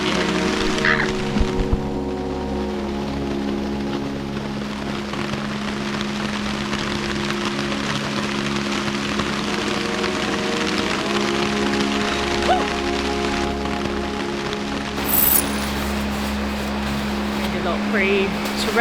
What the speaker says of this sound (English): I don't know if you can hear me over the torrential rain.